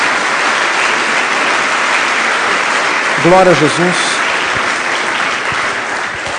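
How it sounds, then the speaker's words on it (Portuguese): A church congregation applauds for Jesus, a loud, steady wash of clapping that fills the room. A voice calls out a short sung or shouted praise partway through, and the clapping keeps going beneath it. "Dê uma salva de palmas a Jesus."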